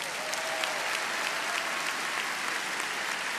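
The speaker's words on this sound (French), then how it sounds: "On vous applaudit aussi." A large audience at a political rally in Cannes keeps up steady, dense applause, loud and continuous from start to finish.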